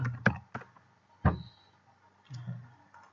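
A few sharp, faint mouse clicks come in irregular bursts, made while working in Revit architectural software on a quiet computer setup.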